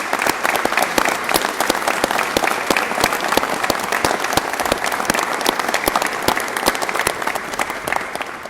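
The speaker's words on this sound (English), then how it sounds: "Can I get a round of applause for the folks that are on the steps today?" Sustained audience applause at a Georgia governor's event honoring veterans, steady dense clapping from a crowd with no talk over it, loud and even throughout.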